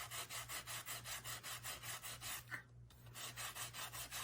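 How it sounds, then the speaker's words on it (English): Sandpaper rasps back and forth over an embossed metal tin lid in a steady, even rhythm of close strokes, pausing briefly before the rubbing resumes. "Most of it is almost sanded off."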